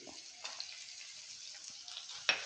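Curry leaves, green chillies and garlic fry in a pan for a dried-prawn and tomato curry, giving a faint, steady sizzle with a few brief louder spatters.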